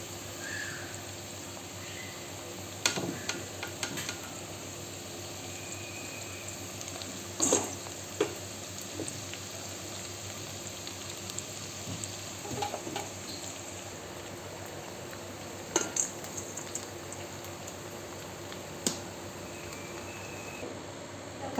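Cauliflower pakoda batter fries in hot oil in a pan, a faint, continuous bubbling sizzle broken by a few soft clinks of a utensil, with no talking.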